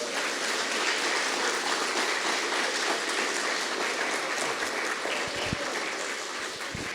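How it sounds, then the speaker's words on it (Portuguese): A church congregation applauds during a sermon, a broad, sustained wash of clapping from many hands, steady and fairly distant, lasting several seconds without talk. "Então vamos dar um aplauso para Jesus,"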